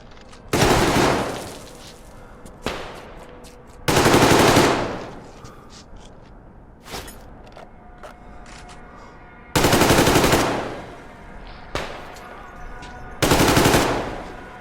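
Bursts of automatic gunfire in Metro Exodus: four long, loud volleys and a few single sharp shots, separated by short lulls with faint background noise.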